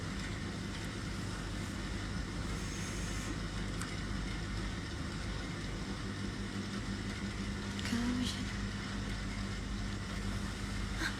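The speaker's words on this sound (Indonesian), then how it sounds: "Suara kereta itu kan berisik." A train rumbling past as a steady, noisy low roar lasting throughout, with a brief swell near the end and no talking.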